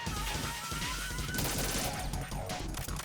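Rapid bursts of gunfire in Metal Gear Solid 2 crackle loudly over an intense game soundtrack, with overlapping shots and effects packed into a few seconds.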